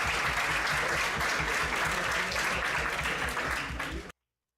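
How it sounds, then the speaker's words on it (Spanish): Audience applause for a panel of software engineering experts, loud continuous clapping that holds steady for about four seconds and then cuts off abruptly. "Vamos a darle un aplauso."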